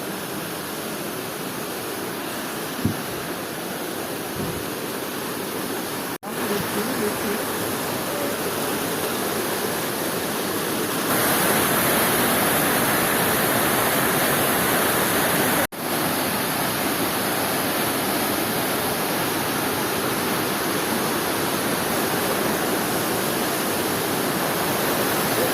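A river rushes along a trekking trail, a steady broadband roar of flowing water that stays loud and unbroken throughout, with no speech.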